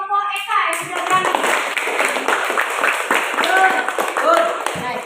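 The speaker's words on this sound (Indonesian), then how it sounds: "kita kasih tepuk tangan yang meriah dulu untuk kelompok Eka yang sudah berani" A classroom of students claps for a student group, with a dense patter of hands over several seconds mixed with a teacher talking.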